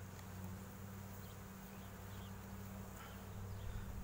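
Honeybees hum around an opened hive during an autumn inspection after feeding, a steady low drone with a few louder bees passing close, faint and continuous with no talking.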